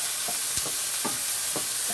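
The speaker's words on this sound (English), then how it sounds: "So we're gonna saute this a bit." Shepherd's pie filling sautés in an oiled pan on a stovetop, a steady hiss of sizzling with several soft scrapes of a spoon stirring through it at an uneven pace.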